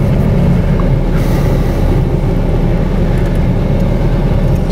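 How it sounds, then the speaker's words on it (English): A 2014 Ram 2500 truck engine runs with a steady, loud low rumble throughout, dense and continuous from start to finish with no voices over it. "We're going to go ahead and start the car."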